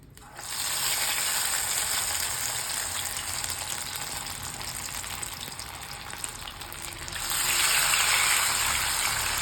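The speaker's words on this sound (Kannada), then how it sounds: "ಈಗ ಈ ಉಂಡೆಗಳನ್ನ ಇದರಲ್ಲಿ ಸ್ವಲ್ಪ ಹೀಗೆ ಡಿಪ್ ಮಾಡಿ ಎಣ್ಣೆಗೆ ಹಾಕೋಣ" Batter-dipped soya balls, coated in a cornflour mixture, hiss and bubble steadily in hot oil nearby, a continuous bright sizzle that swells louder toward the end.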